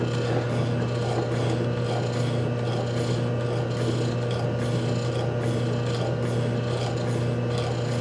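A Delta Ammco metal shaper cuts a chamfer with a steady mechanical drone and grinding rasp, constant and close throughout with a faint rhythmic pulse of the reciprocating ram.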